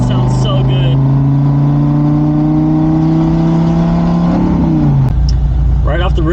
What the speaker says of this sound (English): Gosh, that V10 sounds so good.